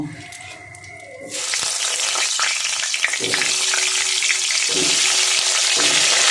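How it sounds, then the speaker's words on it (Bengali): Potatoes sizzle and fry in hot oil seasoned with a little salt, in a pan that just held prawns; after a brief quieter moment with some clinks, a loud, steady crackling hiss takes over and continues with occasional stirring. "লবণ দিয়ে আমি আলুটা ভেজে নেব।"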